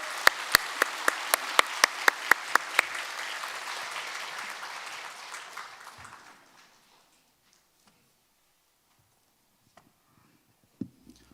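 A church congregation claps to welcome a deacon back during a Sunday anniversary service, a strong burst of applause that fades out after about six seconds, followed by near silence and a few faint knocks.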